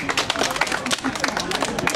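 Applause from a small audience at an Ukrainian embroidery event in Bologna, dense overlapping claps with crowd murmur, fairly close and continuous for the short span.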